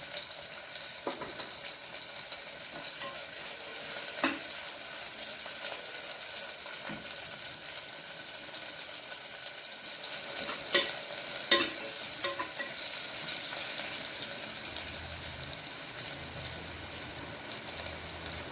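Onions sautéing in a pan with salt for a home-style South Indian mutton gravy, a steady low sizzle with occasional stirring clinks and scrapes, close and continuous with no talking.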